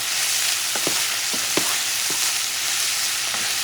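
Mexican-style longaniza sausage frying in a pan, a steady loud sizzle close by with several soft scraping stirs of a utensil at irregular intervals, no voices.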